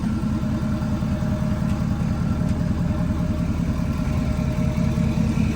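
A Ford Powerstroke diesel pickup truck running steadily while being moved in a driveway, a continuous low rumbling drone at even volume with no talking.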